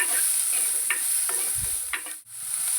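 Chopped onion and green chili fry in a pan with a steady bright sizzle, while a utensil stirs and scrapes a few times close by, with no talking.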